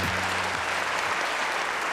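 An audience applauds at a Korean government policy briefing to welcome a presenter. The steady, even clapping wash lasts the whole two seconds, and a brief low tone sounds at the start.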